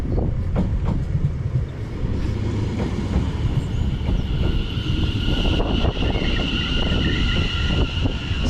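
A Greater Anglia train rumbles and clatters into a station on the Braintree branch, with steady rolling wheel noise, rhythmic clicks over the rails and a faint squeal as it slows.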